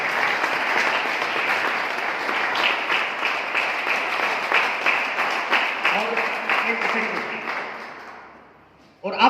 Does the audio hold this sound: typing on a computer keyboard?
no